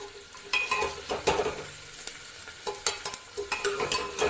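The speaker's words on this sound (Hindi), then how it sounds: "बीच बीच में हम चलाते रहेंगे। प्याज को ज़्यादा हम लाल नहीं करेंगे।" Onions fry in a pressure cooker with a steady low sizzle, while a spoon scrapes and stirs them in repeated uneven strokes close by.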